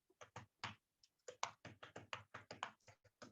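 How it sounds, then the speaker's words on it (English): Keys clack on a computer keyboard in quick irregular bursts, a dozen or so crisp close taps with brief pauses between words. "just typing it out here"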